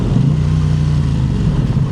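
A KTM 890 Adventure motorcycle's exhaust drones steadily on the road, a close, loud, low engine note held evenly with slight fluctuations and no voices.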